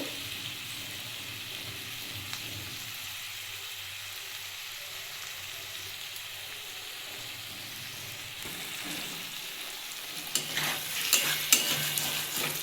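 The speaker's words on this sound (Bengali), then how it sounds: "এটা ভালো করে আমি কষিয়ে নেব" Prawns, flat beans and potatoes stir-fried in a pan, an even sizzle under steady scraping and stirring, with a few louder clinks near the end.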